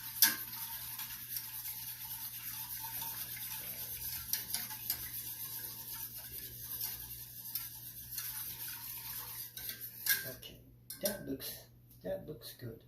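A spoon stirs an ice cream base thickened with xanthan gum in a pot on the heat, making faint, steady scraping and soft ticking against the pan over a low simmer, with a few sharper clinks near the end.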